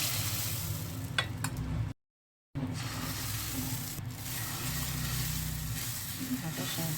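Moong dal chilla batter sizzles loudly and steadily on a hot tawa, a continuous broadband frying hiss with a brief drop to silence partway through, while a person talks over it.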